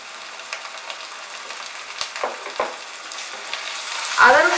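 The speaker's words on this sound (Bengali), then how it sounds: "আদা রসুনটা দেওয়ার পরে এটাকে ফ্রাই করে নেব আরো 2 মিনিট" Ginger and garlic paste sizzles in a pan for chicken keema, with scraping stirs scattered through the frying and a louder hissing burst near the end.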